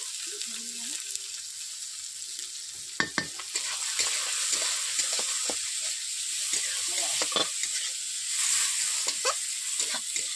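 Plenty of chopped onions stir-fry in oil for susni greens, with a steady close sizzle and frequent irregular scrapes and clacks of a stirring spoon. A faint voice is briefly heard near the start.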